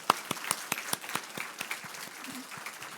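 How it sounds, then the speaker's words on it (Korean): A church congregation claps in thanks to God at a New Year's Eve worship service, with sparse, uneven individual claps standing out over a soft, thin background of applause. "우리 하나님께 우리 한번 감사의 박수 한번 하겠습니다."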